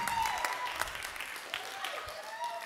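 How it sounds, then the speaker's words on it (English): Church congregation clapping, a brisk spread of many hands under a voice speaking over it and occasional sharper claps standing out. "Somebody stand and give the Lord a big clap."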